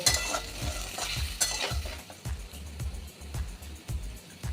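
Spices, including Kashmiri red chilli powder, are stirred in a frying pan with rhythmic scraping strokes about every half second over a low sizzle, close and moderately loud.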